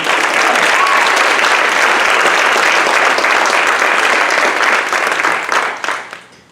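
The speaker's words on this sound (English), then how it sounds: "One more round of applause for Alyssa Young and Inkrott on that" A concert audience gives a jazz band's soloists a loud, dense burst of applause that sustains for several seconds before tapering off and fading away at the end.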